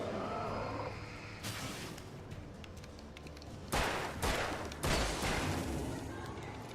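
Gunfire in the video game Alan Wake: a dense, noisy stretch of shots and booms with two louder broadband blasts near the end, sounding close and heavy over a continuous game background.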